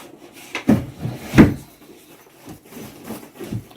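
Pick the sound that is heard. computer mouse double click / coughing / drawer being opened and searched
drawer being opened and searched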